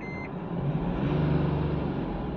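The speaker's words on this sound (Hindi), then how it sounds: "अब इस गाड़ी की इंजन नॉइज हम लोग अंदर की तरफ से सुन लेते हैं।" Inside the cabin of a Mahindra Bolero Neo N10 as its engine accelerates: a steady, low, droning hum that swells slightly, with a brief electronic beep at the very start.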